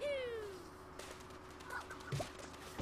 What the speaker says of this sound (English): those are birds